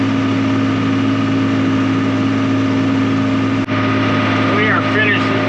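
Tractor engine idling low while turning in a soft, spongy field, a steady close drone with a constant hum throughout and a brief knock partway through.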